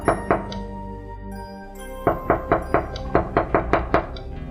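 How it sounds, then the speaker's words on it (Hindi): Heavy knocks on the main door of an old mansion, a pair of booming raps followed by a loud, steady series of thuds, close and resonant with no voices. "तभी नीचे के मुख्य दरवाजे पर एक भारी दस्तक हुई।"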